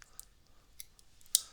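Small scissors on a Swiss Army knife are handled and snipped, producing a few sparse, light metallic clicks and one sharper, louder snip near the end, close up in a quiet room.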